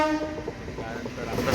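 A train stands at a station, its engine rumbling with a long steady horn-like tone and tonal hum throughout, while a voice talks faintly nearby.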